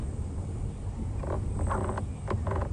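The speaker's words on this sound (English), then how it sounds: "It's called a grey go-away bird." A grey go-away bird calls during an afternoon safari drive at Djuma Game Reserve, with a few faint, nasal bursts in the second half over steady low ambient rumble and insect hiss.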